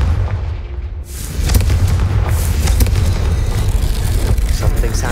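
A Confringo blasting spell going off in Hogwarts Legacy, a loud booming explosion that swells after a moment and rumbles on heavily, with deep low roar filling the rest of the scene.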